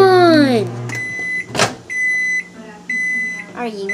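A microwave oven heating chicken noodles gives several short, shrill beeps as it finishes, each beep separated by brief pauses, with a voice speaking close by.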